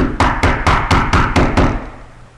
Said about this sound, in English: You would knock, especially as a black man, you would knock hard.